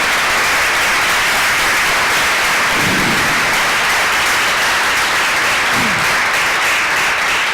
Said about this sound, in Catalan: Un aplaudiment, sí.